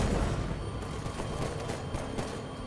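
Muffled explosive rumble and scattered gunfire in the video game Halo 5, a steady low battle wash at moderate-to-faint level with a few sharper pops, no clear speech.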